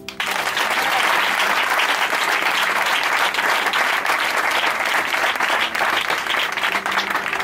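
A church congregation at a Sunday service bursts into loud, sustained applause, dense clapping that holds steady throughout.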